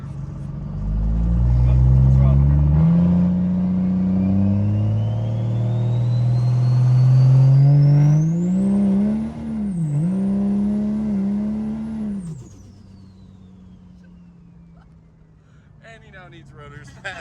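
A 1500-horsepower plow truck engine runs at full throttle on a dyno, its loud roar climbing steadily in pitch, dipping briefly, then peaking before cutting off abruptly to a low idle hum.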